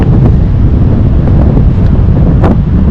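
Strong wind buffets the microphone on the beach at Digha, a loud, constant low roar with gusty rumbling throughout and no voices.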